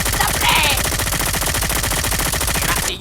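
Rapid automatic gunfire from a video game shooter, a dense continuous burst of loud shots running nearly the whole time before cutting off abruptly at the end.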